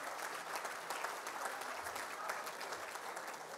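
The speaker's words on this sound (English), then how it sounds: "Can we just give them a round of applause as they head off the stage?" At an AFLW Best and Fairest awards night, the crowd gives the top three players a round of applause as they leave the stage; sustained, even clapping, somewhat distant and soft.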